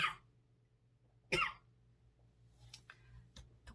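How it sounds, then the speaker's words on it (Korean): A single sharp, close cough breaks the quiet, followed by a few faint clicks and small movement sounds in a still room. "제 목소리가 조금만 커지면 이렇게 기침이 나와요"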